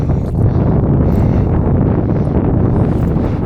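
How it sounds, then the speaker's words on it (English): Wind blows steadily over a lake during yabby fishing, a constant loud roar buffeting the microphone with no pauses for the full length. "That wind's not encouraging."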